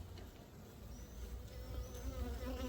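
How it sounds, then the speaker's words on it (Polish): Dense, steady buzzing of many honeybees close by at an open hive, a continuous hum with individual insects passing near, no voices. "No i spójrzcie, ile tych pszczół jest."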